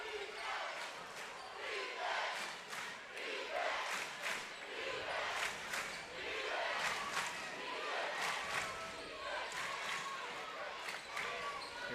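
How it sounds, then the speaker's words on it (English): A crowd roars at a girls' Elite 8 basketball game in the War Lodge gym, a loud continuous din of cheering voices with sneaker squeaks and ball sounds rising through it and a commentator talking over the noise. "Hear the crowd roaring here at the War Lodge"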